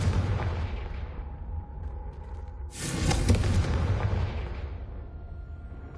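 Confringo blasting spell in Hogwarts Legacy: a heavy booming explosion bursts out after a low rumble and rolls away into a long fading roar, loud and close, with no talk.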